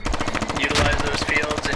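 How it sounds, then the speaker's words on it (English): Rapid automatic gunfire in the Squad v8.9 military shooter during a house-to-house firefight, a dense burst of close, loud shots in quick rhythm, with a voice speaking over part of it. "shots fired"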